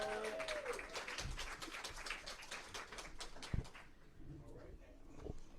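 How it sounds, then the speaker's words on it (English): A UFO festival crowd gives a round of applause for a speaker, moderate and somewhat distant, fading out after a few seconds into room noise with scattered claps and faint voices. "Let's give him a round of applause."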